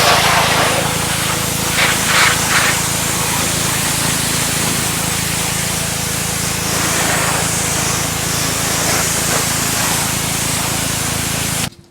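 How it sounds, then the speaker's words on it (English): A pressure washer sprays water and degreaser over a grimy, high-mileage car engine, giving a loud, steady hiss of spray that runs without a break and carries no talk. "first thing I'm going to do is pressure wash as much as I can off"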